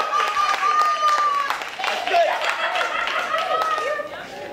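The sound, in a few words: audience applause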